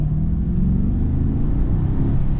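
Engine of a Maserati Ghibli Trofeo, a rumbling, whirring low drone that swells slightly as it revs, heard close up and alone for a couple of seconds.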